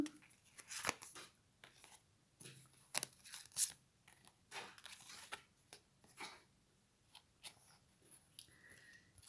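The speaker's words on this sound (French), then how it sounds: "Je vais prendre 3 cartes." Tarot cards drawn from a deck, with soft shuffling, slides and crisp flicks of card stock arriving as scattered brief bursts and rustles, close and quiet, no talking.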